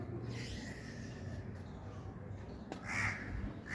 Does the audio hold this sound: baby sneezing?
no